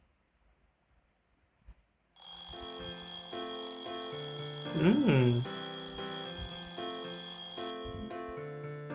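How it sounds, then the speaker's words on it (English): A video game alarm clock rings as a bright, sustained electronic chime that starts suddenly after near silence and keeps going, fairly loud, while a person briefly murmurs over it. "I turn off my alarm clock."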